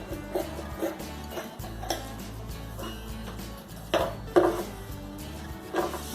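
Scissors trim stitched fabric for a triangle samosa pouch, giving a few sharp, separate snips and clicks spread across a quiet room.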